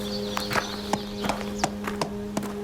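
A horse being led into a stable clip-clops at a slow, steady walk, each hoof strike crisp and fairly close, over a low constant hum.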